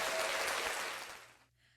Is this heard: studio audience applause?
yes